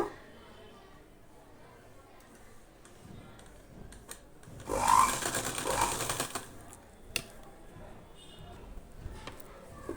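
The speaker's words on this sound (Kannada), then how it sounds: "ಒಂದು ಕಾಲು ಇಂಚಂಗೆ ಎರಡನ್ನು ಸ್ಟಿಚ್ ಮಾಡ್ತಾ ಬಂದ್ಬಿಡೋಣ" A sewing machine stitches a blouse sleeve with a quarter-inch seam, running in one short, steady burst in the middle, with quiet room noise and faint handling sounds before and after.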